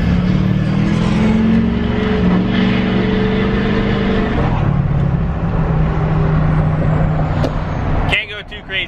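Duramax diesel pickup truck with a slightly faulty transmission accelerating hard, a loud steady engine drone with rising tones that breaks off near the end, with voices talking over it.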